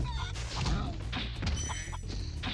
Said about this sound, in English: He's having such a good time just shooting chickens.